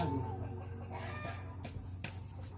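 A rooster clucks a few times nearby against a steady low hum and background chatter.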